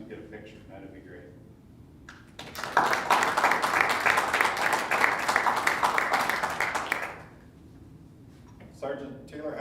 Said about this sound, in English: everyone give him a round of applause and shake a few hands